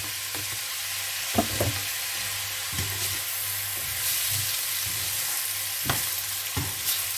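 Cooked rice stir-fried in a pan with ginger for chicken rice, a constant oily sizzle and hiss with occasional scraping stirs of the spatula, close up and without talking.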